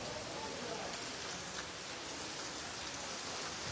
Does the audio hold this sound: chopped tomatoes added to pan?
no